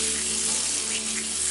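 Boiled, mashed elephant foot yam sautés in a pan, a brief, steady, close hiss of frying with no pauses or distinct stirring strokes.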